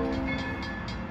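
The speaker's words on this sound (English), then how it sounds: "here comes the Steam Special" New Hope & Ivyland steam train pulling out of the station in New Hope on a Santa Claus special run, a brief dense rumble with a sustained whistle-like tone, steady and fairly loud.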